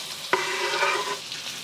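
Chopped onions and white and light green parts of green onion frying in leftover bacon fat, a close, even sizzle with a brief sharp clatter near the start as they hit the pan, no talking.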